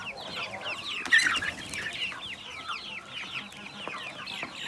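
Sussex hens cluck near their chicks in a busy coop, with steady overlapping calls and one louder squawk early on amid a constant chorus of chirps.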